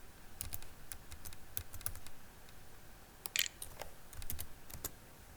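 Rapid typing on a computer keyboard, used to enter text for a game server: a close, steady stream of irregular clicks and key taps with a few sharper, louder strokes and no voices.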